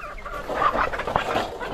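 Decal Brown laying hens cluck steadily in their coop, several birds close by with overlapping soft calls and a few sharper notes, no talking.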